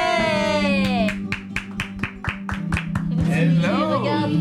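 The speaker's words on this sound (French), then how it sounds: "faites un tonnerre d'applaudissements pour Wari Nichel" A studio audience on a French television show claps to welcome a guest, giving a run of quick, fairly regular hand claps over background music and voices.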